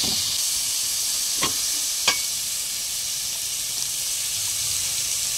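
Chopped tomatoes sauté in a pan for a mutton paya, giving a steady hissing sizzle with two sharp spoon scrapes early on; no voices are heard.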